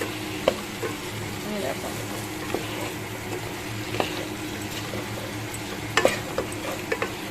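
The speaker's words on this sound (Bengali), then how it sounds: "আর টমেটো কুচিও দিয়ে দিয়েছি একেবারে, সব মিশিয়ে নিই ভালো করে।" Chopped tomato and green chili being stirred in a hot pan, with a steady sizzle under scattered scraping strokes of the spoon; a voice speaks briefly.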